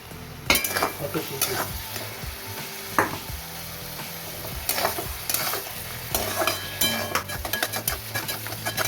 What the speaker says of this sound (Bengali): কাজু বাদাম দেওয়া হচ্ছে